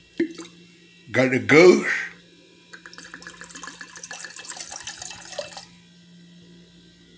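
A short liquid trickle, probably a drink poured into a cup, runs faintly for a few seconds indoors after someone speaks briefly near the microphone, with a low background hum.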